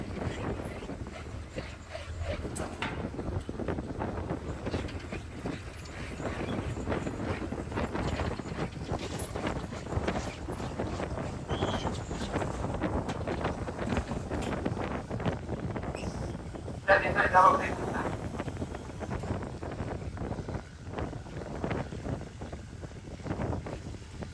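Strong wind gusts buffet the microphone on a Pacific tuna fishing boat at sea, a continuous rough rumble with water and deck noises underneath.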